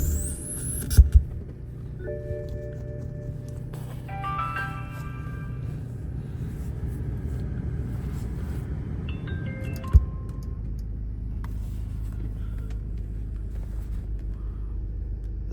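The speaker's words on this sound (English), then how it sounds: "So let's start up the car first." A BMW car engine starts and settles into a steady idle, with a brief transient on cranking and another short click partway through, the low rumble continuing evenly throughout with no talking.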